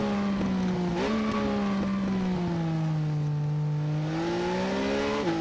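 A steady, droning triple-cylinder motorcycle engine tone in a video game, Triumph style, on a wet track, holds a buzzy pitch that shifts slightly up and down, with a couple of quick blips, continuous and fairly loud throughout.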